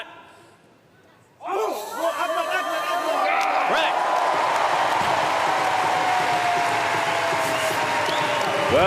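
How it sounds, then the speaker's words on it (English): Crowd erupts into loud, sustained applause and cheering after a record 242 kg Paralympic powerlifting lift, starting abruptly from near quiet and holding steady to the end. "There was a lovely reaction from the crowd of both respect and a little bit of astonishment as well"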